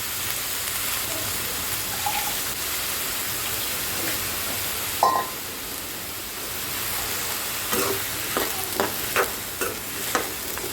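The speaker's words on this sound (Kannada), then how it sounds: "ಈಗ ಇದನ್ನು ಸ್ವಲ್ಪ ಮಿಕ್ಸ್ ಮಾಡ್ಕೊಳ್ಳೋಣ ಈಗ ಇದು ಸ್ವಲ್ಪ ಚೆನ್ನಾಗಿ ಬೇಯಬೇಕು" Half a kilogram of green beans being stirred in a frying pan, a steady sizzle throughout with a string of distinct scraping and clacking stirs toward the end, close and alone.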